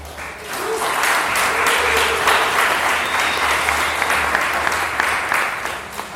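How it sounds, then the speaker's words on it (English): Audience at a high-dose mushroom panel in Detroit gives a loud, continuous round of applause for the panelists, dense clapping that swells quickly and holds steady. "Would you please give a nice round of applause to the panelists?"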